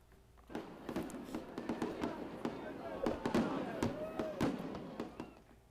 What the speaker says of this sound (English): The city of Savannah celebrated America's 250th yesterday with an absolutely incredible fireworks display over the Savannah River